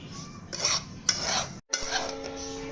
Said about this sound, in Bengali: অনবরত 10-12 মিনিট ধরে নাড়তে হবে। সুজিটাকে ভালো করে ভাজতে হবে।